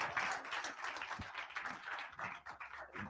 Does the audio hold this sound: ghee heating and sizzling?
no